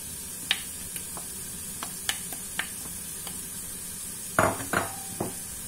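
Minced meat sizzling steadily in a pan while being broken up and stirred, with a constant frying hiss and scattered clicks and scrapes of a utensil against the pan, a cluster of louder scrapes near the end.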